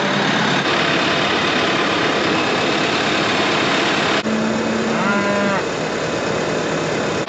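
A steady engine rumble runs throughout, close by, while a cow moos partway through.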